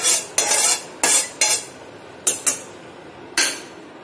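Sugar stirred in hot oil in a small pan, heard as a series of sharp metallic spoon scrapes and clinks in irregular bursts over a faint sizzle, close and with no voices.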